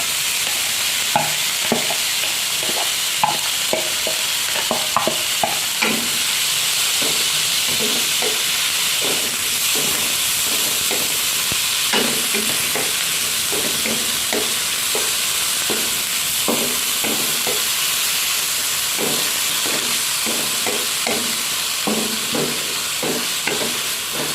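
Bitter melon stir-fries in a hot pan with meatballs, a steady loud sizzle running throughout while a utensil scrapes and taps the pan in an irregular rhythm.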